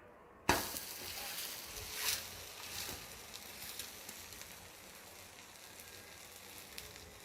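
Pearl millet (kambu) dosa sizzles on a hot pan after being flipped, a steady close crackling fry with a sharp burst at the start and a few louder spits.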